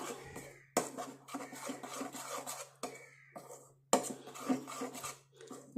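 Henna powder and instant coffee powder are mixed in a bowl, giving quiet rhythmic scraping and rubbing strokes in short bursts separated by brief pauses, with a couple of sharper knocks against the bowl and no voices.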